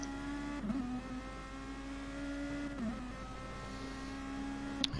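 A Nissan Group 1 race car engine in GT Sport at the Nurburgring, heard as a steady high-revving drone with brief dips at gear shifts, heard continuously from on board.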